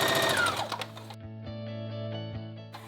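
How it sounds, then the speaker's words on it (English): Home sewing machine running a straight stitch on knit fabric, a fast steady mechanical chatter heard close and alone, briefly slowing and restarting near the end. "doing a straight stitch on the sewing machine is a lot faster than doing that zigzag or stretch stitch"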